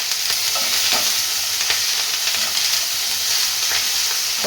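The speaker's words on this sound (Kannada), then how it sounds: "1 ಕ್ಯಾಪ್ಸಿಕಮ್ ಸಣ್ಣದೊಂದು, ಸ್ವಲ್ಪ ಫ್ರೈ ಮಾಡ್ಕೊಳ್ಳೋಣ. ಅದಕ್ಕೆ 1 ಹಿಡಿಯಷ್ಟು ಕರಿಬೇವು ಸೊಪ್ಪು ಹಾಕಿ" Capsicum and curry leaves fry in a pan for capsicum chutney. A loud, even hiss of frying runs throughout, broken by faint ticks from stirring, with no voices.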